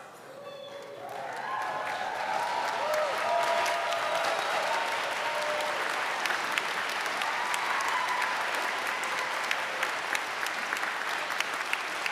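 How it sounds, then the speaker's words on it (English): Commencement audience gives a sustained round of applause for newly conferred graduates standing in a large hall, steady dense clapping from many hands for about twelve seconds without speech. "Let's give them a great round of applause"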